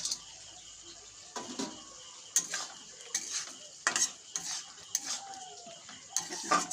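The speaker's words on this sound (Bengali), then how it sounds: "হালকা হাতে নাড়াচাড়া করে নিচ্ছি।" A spoon scrapes and taps gently through bitter gourd curry in a pan, soft strokes that come in uneven bursts every half second or so over a quiet low hiss.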